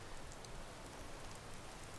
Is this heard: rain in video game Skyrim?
yes